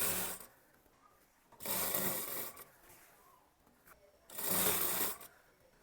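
A sewing machine stitches the lining of an Anarkali kurti in two loud bursts separated by quiet pauses, with a short softer run of stitching between them and no talk.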